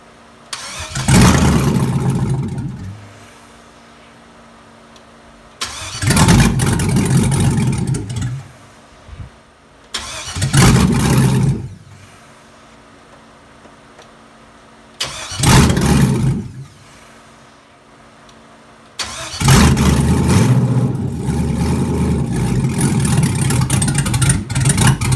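A 4.8 V8 with an Elgin 1838p Sloppy Stage 1 cam is cranked for its first start in several separate tries, each a loud burst of cranking and brief running followed by quiet, with the final attempt catching and running steadily.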